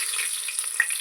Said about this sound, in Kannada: ಸೊ ಸಾಸಿವೆ ಇದಾಗಿದೆ, ಆಯಲಲ್ಲಿ ಸ್ವಲ್ಪ ಒಗ್ಗರಣೆ ಈರುಳ್ಳಿ ಹಾಕೊಳ್ಳೋಣ